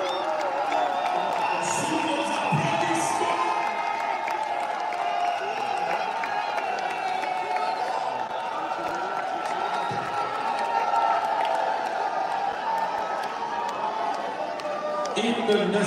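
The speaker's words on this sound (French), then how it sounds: "Sous vos applaudissements." An audience at a presidential speech to the diaspora in Belgium applauds and cheers steadily, a dense continuous wash of clapping and crowd noise with occasional whoops, loud and sustained throughout.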